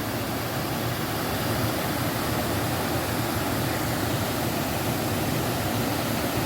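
Tier eight of the waterfall at Nam Tok Chet Sao Noi National Park, Thailand, roars as a dense, continuous rush of falling water, loud and close, with no voices.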